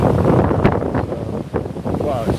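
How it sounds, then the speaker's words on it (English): Strong wind blusters outdoors, buffeting the microphone with a loud, continuous roar that rises and falls in gusts. "So, wow, it's so windy."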